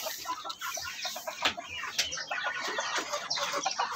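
Native chickens clucking and a ready-to-lay hen calling in short, irregular bursts, with chirpy, scratchy barnyard noise throughout and no voices.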